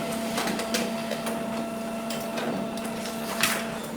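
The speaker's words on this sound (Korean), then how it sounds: "테스트 페이지 인쇄" A printer running off a Windows test page, giving a steady mechanical whir with a constant hum and faint repeated clicks and feed noises, close by and alone without talk.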